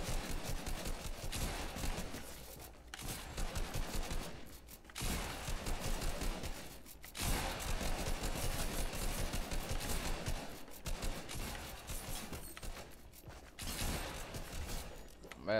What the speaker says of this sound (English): Oh, I needed to reload.